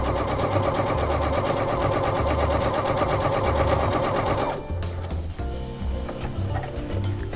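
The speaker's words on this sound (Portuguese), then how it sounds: "Costurei um lado" A sewing machine stitching fabric for a makeup holder runs in a fast, steady whirring rattle up close, then stops abruptly and gives way to quieter handling noises.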